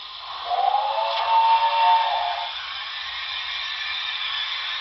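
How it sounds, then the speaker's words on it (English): A thin, tinny lumber mill saw whine from a Broadway Limited NYC Commodore Vanderbilt Hudson model locomotive's Paragon4 sound system, rising for a couple of seconds then fading into a steady faint hum. "Lumber mill sounds, 21."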